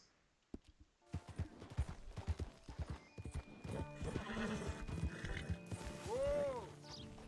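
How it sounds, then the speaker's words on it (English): Horse hooves clip-clopping and a horse neighing in Red Dead Redemption 2, irregular hoofbeats building into a steady gait under mechanical clinking, ending in a loud, rising whinny. "There's that old horse."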